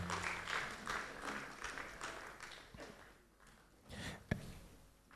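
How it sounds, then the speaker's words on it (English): Audience applause at a disability career fair held at the British Council in Ghana: moderate, fairly distant clapping that swells then thins out, ending with one sharp louder clap. "Can we please give her a round of applause?"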